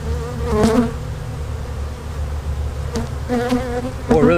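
A swarm of bees is transferred from an old hive into a new one, their dense buzzing droning steadily up close, with louder surges of agitated buzzing near the start and at the end.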